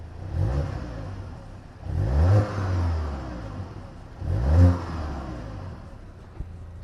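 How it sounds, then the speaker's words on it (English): A Volkswagen Golf GTI Mk8 engine idles while parked, then revs up three times in separate bursts, each rising and falling back to a low rumble, heard up close. "I'll give you a little rev of the car just so you can maybe hopefully hear that side of things."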